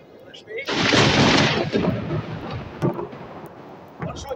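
Thunder effect in a village stage play, a sudden loud rolling crash that swells in and rumbles on for a few seconds before fading, with a couple of smaller knocks afterward.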